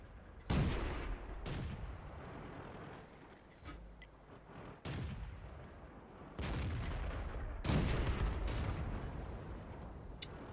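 Tank cannon fire in the World of Tanks video game during an M2 Medium and Medium Mk. II match: several loud, booming shots and impacts land at irregular intervals, each with a rumbling tail, over a steady low battle din.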